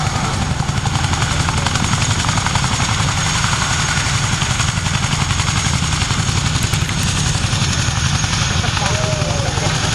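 Boeing Chinook helicopter with twin 5,000 horsepower Honeywell engines running at full power for a high-performance departure: a loud, continuous rotor thumping and turbine roar throughout, with a faint whine.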